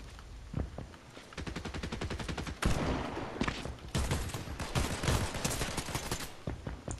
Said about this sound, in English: The flapjack rifle is crazy.